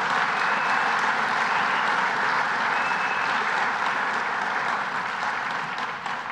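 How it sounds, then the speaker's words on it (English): Audience applause at a Building Trades Employers' Association dinner, a steady, full room of clapping sustained for several seconds and tapering slightly at the end. "Let's give him a round of applause"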